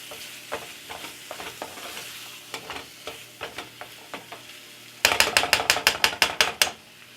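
Ground meat browning in a pan for lasagna-stuffed zucchini, a steady sizzle broken by scattered scraping stirs, then a quick burst of loud, rhythmic utensil scrapes near the end.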